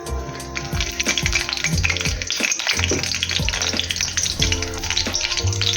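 Butter melts and sizzles in hot oil in a pan while cooking paneer butter masala, a loud continuous crackle with stirring scrapes, and music playing underneath.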